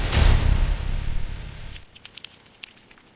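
Steam sprays in a loud, broad hiss over copper slabs in a molten copper factory, cooling and cleaning them, then cuts off abruptly, leaving faint crackles and ticks from the cooling metal.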